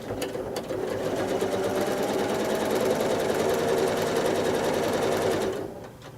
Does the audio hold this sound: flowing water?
no